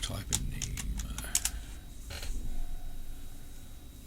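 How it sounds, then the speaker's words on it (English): A computer keyboard being typed on nearby, with a quick run of light clicking keystrokes early on, then a low hum and soft room noise. "we'll just type in Nemo"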